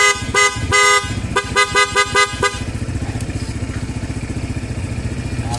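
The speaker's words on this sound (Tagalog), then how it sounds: "Tapos loud horn." Several loud aftermarket horn blasts on a motorcycle, sharp stuttering bursts in quick succession, then the engine idles with a steady mid-pitched rumble.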